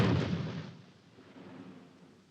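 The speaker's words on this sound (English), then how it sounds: "That explosion was one of our mines." An anti-personnel mine goes off in a wartime desert battle at El Alamein, a single heavy blast with a booming onset that decays into a long, fading rumble.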